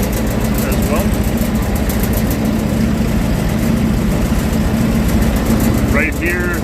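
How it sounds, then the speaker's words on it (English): The motor driving a blower starts up and runs at a wall spray job site, a loud, steady engine drone with a constant low hum throughout; a person talks over it. "starting up the motor for the blower"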